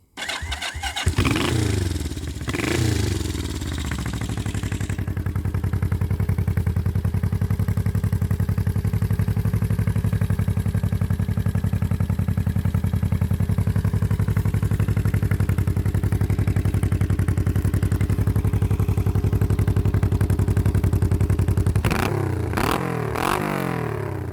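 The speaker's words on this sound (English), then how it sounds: "So though we can start this on the electric starter, I'm filming this one-handed, so we'll just have a go." A Honda CL350 motorcycle on its electric starter cranks a few times, catches and settles into a loud, steady twin-cylinder run with slight revving, ending with more cranking-like bursts.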